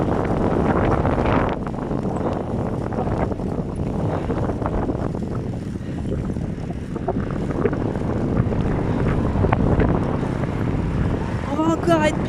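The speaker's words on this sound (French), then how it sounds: "Ça souffle fort" Gusty wind along Denmark's North Sea coast roars steadily against the microphone while a person talks underneath, the blowing never letting up.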